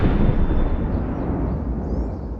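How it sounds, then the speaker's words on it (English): A single distant explosion booms low and heavy, its rumble spreading broadly and decaying slowly over a couple of seconds without a sharp attack. "We have this explosion, and it sounds really distant and boomy."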